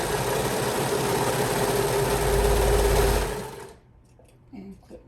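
A sewing machine runs a steady, fast mechanical hum while stitching a dress shoulder seam, close and loud for about three seconds, then stops, leaving faint handling noises.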